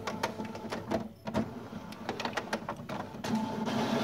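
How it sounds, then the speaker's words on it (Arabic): An HP Deskjet F4100-series printer tries and fails to pull paper, its feed motor whirring with repeated rhythmic mechanical clicks and a grinding rise near the end, loud and close. "نلاحظ ما بتقدر تسحب الورق"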